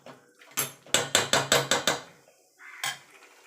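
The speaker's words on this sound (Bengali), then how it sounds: "এবার ভালো করে মাংসটাকে কষিয়ে নেব" A metal spatula clatters against a pot as mutton is stir-fried for a Bengali mutton curry with potatoes: a quick run of about seven sharp, evenly spaced knocks and scrapes, then one more clank after a short pause.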